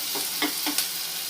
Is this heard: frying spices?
yes